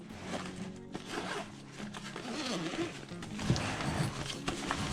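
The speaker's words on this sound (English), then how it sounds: "so I'll go ahead and zip this up and we'll go in there next" A survival backpack's main compartment is zipped shut with a long, continuous rasping zipper pull and some fabric rustling and handling, close and fairly steady throughout, with a little speech in the background.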